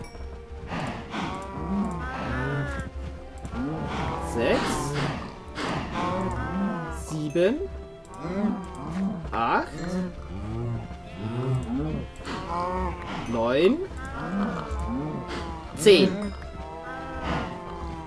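Cattle mooing repeatedly in Minecraft, a penned herd of about twenty cows giving drawn-out calls at close range, overlapping steadily while someone talks over them, counting aloud.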